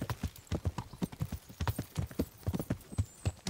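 Steady clip-clop of horse hooves in the video game Kingdom Come: Deliverance, a quick regular rhythm of hard knocks close by, continuing throughout with no voices.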